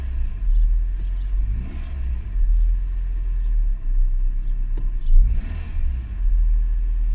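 A Renault Twingo engine runs just after its throttle body was cleaned, idling with a steady low rumble and a couple of brief rises in revs, close by, with no talking.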